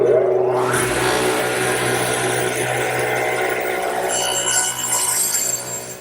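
Radial arm saw cutting an angled wooden armrest for an English garden bench, a loud motor whine with the blade biting through wood in one sustained pass, close up, then spinning down.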